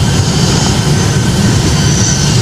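Boeing 757 jet engines roar at takeoff thrust in the Project Flight simulator game, a loud, steady, broadband rumble with no break or talk.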